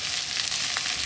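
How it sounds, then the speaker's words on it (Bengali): Leftover breakfast food reheats in a frying pan, giving off a short, steady, close sizzling hiss with light crackles, no talk. "একটু গরম করতে দিয়েছি, একটু ভাজা ভাজা হবে।"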